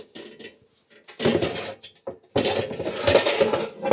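Avocado and cherry tomatoes are set into a metal oven tray in a home kitchen, giving soft clunks and scrapes of the tray and a few light clinks, with bursts of clattering handling noise; a voice talks between the clatters.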